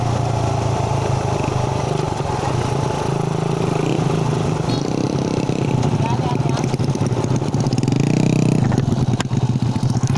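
Loud, steady Suzuki Raider 150 motorcycle engine running throughout, rough and droning with rattling clatter, and revs that swell toward the end.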